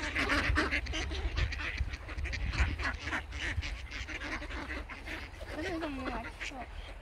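Ducks being fed noodles give repeated quacks and goose-like honks close by, mixed with steady crowd noise and people talking throughout.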